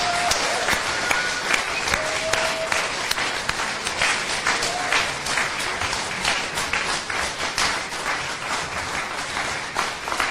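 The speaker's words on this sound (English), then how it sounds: "with thunderous applause and vigelegele, please join me in welcoming our guest, Professor Lumumba." An audience breaks into sustained applause to welcome Professor Lumumba as guest speaker, a dense steady roar of many hands clapping for about ten seconds, with a few cheers and ululations rising above it.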